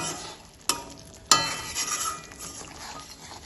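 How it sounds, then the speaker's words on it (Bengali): Coriander fish curry gravy with rohu stirred in a pan, two sharp spoon knocks against the pan followed by soft scraping and a gentle simmering hiss, no voices. "সব কিছু গ্রেভির সাথে ভালোভাবে মিশিয়ে নেব।"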